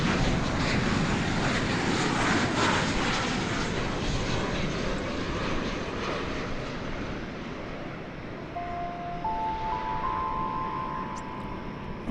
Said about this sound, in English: You're about to see American Airlines Flight 2768 arriving from McAllen, Texas, in the southern part of the state, on Runway DFW.